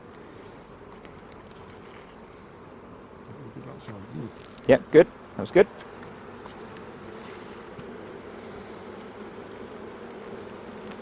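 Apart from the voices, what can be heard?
bees buzzing during a WBC beehive inspection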